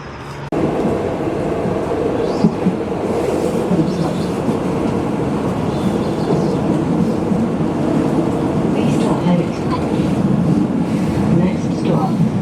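Number 18 tram moving through Cologne toward Phantasialand, heard from inside as a steady, loud rumble of wheels and carriage noise with faint clicks and rattles throughout.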